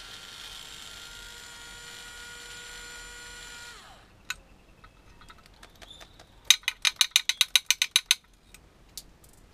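Powered screw-removing tool working on a motor block: a steady whirring hum runs for about four seconds, then winds down, followed by a fast burst of sharp ratcheting clicks, close and fairly loud, with no talk.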